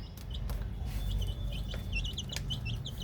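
A small flock of young chicks, growing and sprouting a few white feathers, peep in quick, high, overlapping chirps at close range, repeated throughout over a steady low background rumble, with no talking.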